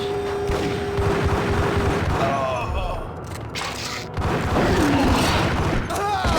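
Grenade blasts in the video game Max Payne, with heavy booming bursts and gunfire-like crashes filling the whole clip at close range, layered over ongoing game noise.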